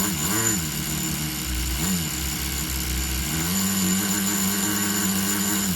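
A Tamiya TGS-R nitro RC car with a Subaru body, its small glow engine buzzing steadily at idle with a couple of quick blips up and down, fairly loud and close and continuous throughout; no talking.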